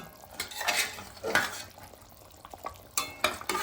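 Fish pieces dropped into a pan of simmering bitter gourd and potato curry, giving soft wet splashes and sizzling bursts with a few utensil scrapes, no talk.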